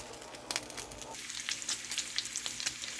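Bacon grease with mustard powder sizzling in a pan over low-medium heat, a soft continuous crackle dotted with small sharp pops, close and fairly quiet with no voices.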